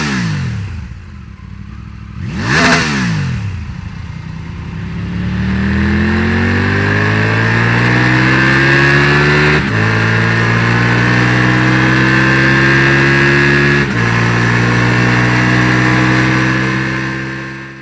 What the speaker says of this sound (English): let's hear the exhaust note now